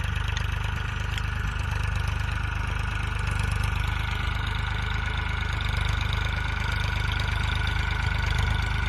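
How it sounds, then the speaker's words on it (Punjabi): A steady, low tractor engine rumble runs unbroken at a constant idle-like pace, loud and close, with no voices or other sounds over it. "ਚਾਚਾ ਜੀ ਟਰੈਕਟਰ ਚਲਾਈ ਜਾਂਦੇ ਆ"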